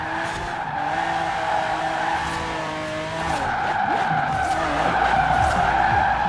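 A Bugatti Veyron drifting on dirt in Forza Horizon 4, with loud continuous tire skidding and squeal over a steady engine roar and gear shifts, close and sustained throughout with no talking.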